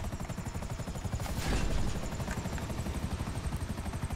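Damaged plane engine in GTA 5 Online, a loud rapid pulsing throb with a brief surge in intensity midway, continuous and without talk.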